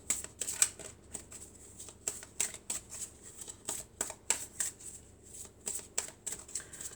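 A deck of tarot cards shuffled by hand, heard up close as repeated quick riffling bursts with crisp papery slaps, loosely rhythmic across the whole stretch, with no voice over it.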